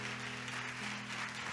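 Church congregation clapping hands during a Sunday service, soft and somewhat distant, a brief burst of applause with a low steady hum underneath.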